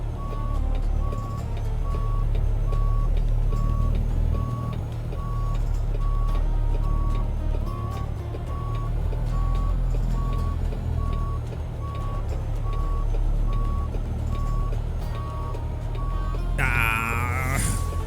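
Truck backing up in American Truck Simulator, its reversing alarm beeping steadily in an even rhythm over a loud, low diesel engine rumble, with a brief louder whine near the end.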